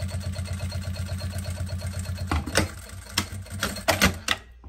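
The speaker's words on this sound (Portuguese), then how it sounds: "E aqui eu vou costurar." A sewing machine stitching a fabric passport cover gives a steady, rapid mechanical chatter for a couple of seconds. After that come a few louder clicks and knocks as it slows, up close and with nobody speaking.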